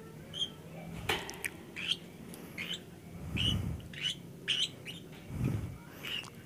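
Young lovebirds chirp and squawk in quick, restless bursts, fairly faint, with a few low rumbles in between.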